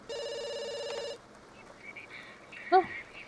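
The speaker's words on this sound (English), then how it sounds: "somebody desperately wants his attention on the phone" A telephone rings in a video game with a bright, buzzing electronic trill for about a second, followed by quieter chirping game sounds and a short rising blip.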